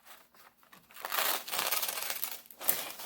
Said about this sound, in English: thinking about my safety scissors, I am going to cut this out